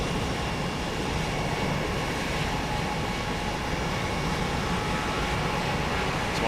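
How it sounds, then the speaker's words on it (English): Steady broadband jet engine roar from an airliner taxiing at an airport in a flight simulator game, a constant, even drone with no talk over it. "There's a plane taxi in there."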